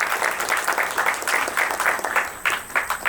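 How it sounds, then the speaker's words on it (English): An audience at a film festival masterclass applauds, a close, lively patter of many hands clapping in uneven waves for a few seconds, with no talk over it. "so a round of applause for him"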